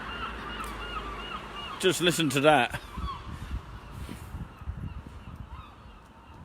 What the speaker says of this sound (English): they are very noisy tonight, these seagulls along the seaside here